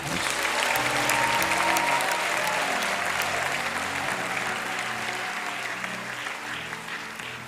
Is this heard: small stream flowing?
no